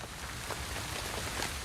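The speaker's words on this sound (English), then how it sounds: "In the night, rain begins to fall." Rain falls at night in the Australian outback, a dense, even hiss of drops with no voices.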